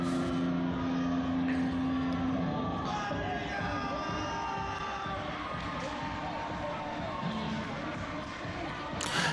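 A wrestling arena crowd cheers and roars as a wrestler makes his entrance at an AMW show, a sustained dense crowd noise with scattered shouts and a brief tone early on, under occasional voices.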